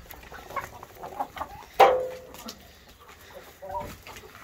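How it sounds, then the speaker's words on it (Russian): Chickens settling for the night in a coop give soft, scattered clucks and murmurs, with one louder squawk partway through, heard up close in a quiet setting. "Куры уже сидят, готовятся ко сну у нас."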